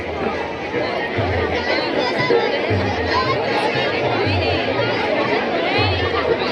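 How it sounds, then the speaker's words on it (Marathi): Dense crowd chatter fills a busy Malvani village fair in Charkop, a constant hubbub of many overlapping voices, close and steady throughout. "बापरे, इथे तर खूपच गर्दी आहे."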